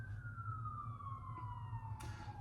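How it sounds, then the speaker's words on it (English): A siren wails with a long descending tone over a steady low rumble of traffic, fairly distant and continuous, with a brief burst of noise near the end. "Sirens."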